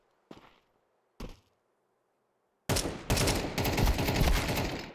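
Video game gunfire: two sharp single shots with a short gap between them, then a loud, sustained stretch of rapid-fire shooting.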